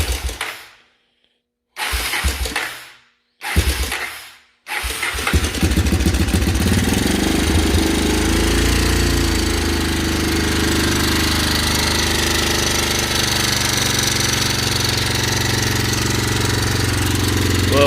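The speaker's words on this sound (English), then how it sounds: "We're gonna try to start it up here," A 1985 Honda 250SX ATV with a freshly fitted carburetor and tank, noisy in the valve top end, cranks in several short bursts before catching, then settles into a loud, steady, rattly idle close by.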